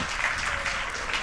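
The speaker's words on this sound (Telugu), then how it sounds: "చప్పట్లు కొట్టి దేవుని స్తుతిద్దాం" A church congregation claps in praise of God, a dense, even patter of many hands at moderate level lasting the whole brief moment.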